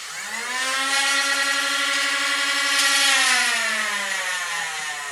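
Foam dart blaster flywheels on a 7.4V LiPo spinning up to a steady high whine that holds for several seconds, then winds down near the end; close and loud, with no voices.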